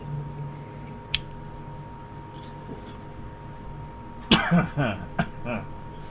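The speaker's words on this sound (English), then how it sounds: "already coughing and he hasn't even hit it yet" A short cough early on, then a louder burst of coughing and throat clearing near the end, close by against a faint background hum.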